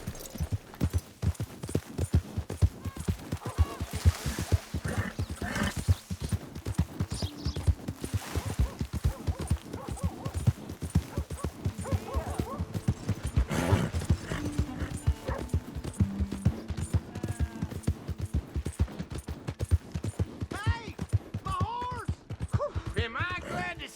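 Horse hooves clip-clop steadily in Red Dead Redemption 2, a close, rhythmic walking gait with occasional whinnies, game ambience and a brief spoken voice underneath.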